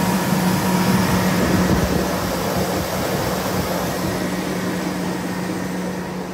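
A Chevrolet Suburban engine idles smoothly on fuel that sat for about three years, with no lifter tick. It makes a steady, even hum that stays level the whole time, with no talking over it.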